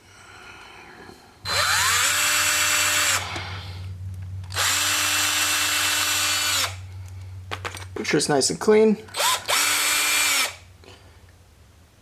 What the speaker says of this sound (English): using a 1/16 drill bit, just gonna push that into the middle and then drill down